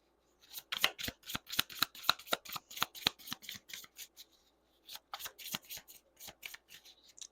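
Cards being shuffled for a card reading, a quick run of crisp riffling snaps close up, pausing briefly partway through before a second burst of shuffling resumes.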